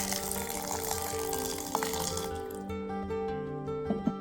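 Water is poured into soaked lentils before they are ground into a paste for radhaballavi, giving a steady close rush of liquid. The flow tapers off near the end, followed by a couple of faint knocks.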